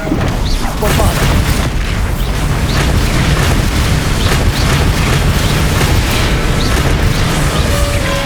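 A Bombarda blast spell in Hogwarts Legacy sets off dense, continuous rumbling explosions and crackling debris, loud and close throughout with no break.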